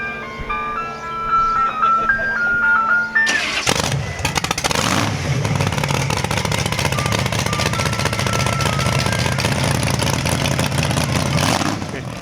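A custom gas-engine show car, the Bobby Darin Dream Car, fires up a few seconds in after a short tinkling jingle, then runs loud and steady with a rough, broadband roar close by.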